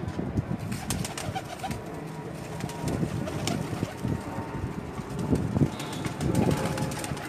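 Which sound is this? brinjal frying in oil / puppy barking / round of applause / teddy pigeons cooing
teddy pigeons cooing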